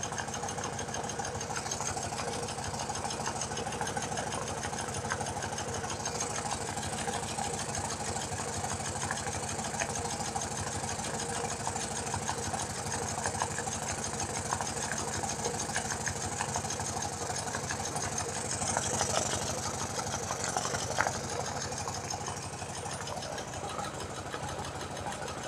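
A BMW Airhead motorcycle engine idles after a top end refresh, with a continuous fast mechanical ticking and clatter over a steady hum, heard close and unchanging for the full length.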